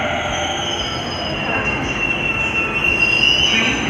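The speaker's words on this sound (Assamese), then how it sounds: "আহি গ'ল আমাৰ মেট্ৰ' ট্ৰেইন।" Delhi Metro train pulling into Karkardooma station, a loud steady rumble with high wheel squeal building toward the end as it nears.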